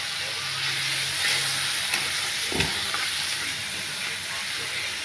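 Ginger, tomato and spices sauté in a pan for a Bengali chochori-style ridge gourd curry, giving a steady close sizzle with a brief scrape of a spatula midway.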